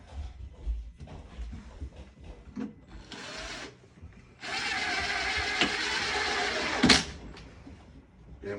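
A drill bores a hole in plastic on the PVC drain of a Delta shower base near a stud, heard as a short whir followed by a longer steady grinding burst, with scattered handling knocks and a sharp click near the end.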